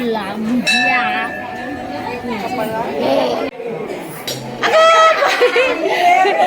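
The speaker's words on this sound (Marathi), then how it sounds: "घंटा वाजला इथंच घंटा वाजला" A temple bell rings out twice with a lingering metallic tone, amid lively chatter and children's voices nearby, at a Hindu temple during Datta Jayanti.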